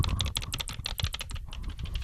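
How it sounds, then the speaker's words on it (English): Rapid clicking keystrokes on a computer keyboard, close and steady for about two seconds with no talking. "that's me typing."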